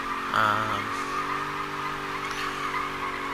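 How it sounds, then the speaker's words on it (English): An SRT8 car doing burnouts: a loud, steady engine roar with harsh tire squeal, strongest in a brief surge near the start and then holding close and continuous. "Now for some good old-fashioned burnouts."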